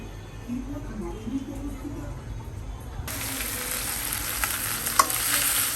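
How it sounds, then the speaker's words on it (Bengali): A hilsa fish head fries in hot oil tempered with black cumin seeds. After a quiet start with faint kitchen noise, a loud, steady sizzle breaks in abruptly and keeps going close by. "এই যে আমি কালো জিরা ফোড়ন দিয়ে মাথাটা একটু ভেজে নিলাম।"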